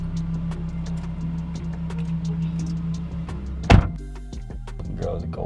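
A car door thunks shut once near the end, a short loud slam over a steady idling engine hum, with faint talk around it.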